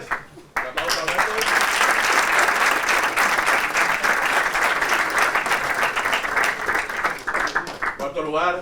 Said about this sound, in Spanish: Alberto González. Un aplauso